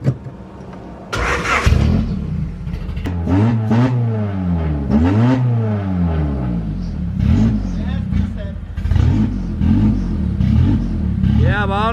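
Unmuffled car engine with no exhaust fitted, revving in a workshop with sharp rising and falling sweeps over a rough idle, close and loud, while people talk around it.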